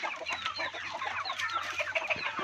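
Egg-laying hens on an organic farm cluck busily and close by, many overlapping calls in quick, uneven bursts over a low background hum.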